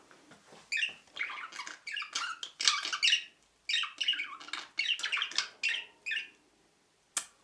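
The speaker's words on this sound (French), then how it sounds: "Je vais vous montrer rapidement les oiseaux." Pet birds in a cage give a run of shrill squawks and squeaks, bursts coming one after another in quick irregular clusters, close and fairly loud, with no talk over them.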